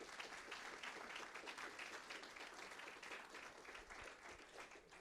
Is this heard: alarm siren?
no